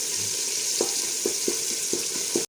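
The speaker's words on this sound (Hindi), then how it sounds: "तो हम 1 से 2 मिनट तक इसे फ्राई करेंगे मसाले को।" Masala spices sizzle and fry steadily in a pan for Indian aloo matar pulao, a dense hiss broken by several soft stirring clinks, close and continuous with no talking.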